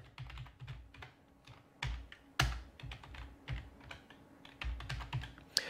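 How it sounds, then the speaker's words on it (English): Steady, irregular typing on a computer keyboard while writing a SQL Server query, with quick bursts of clicking keystrokes, a few sharper key hits, and no voices. "I've just started typing PERS"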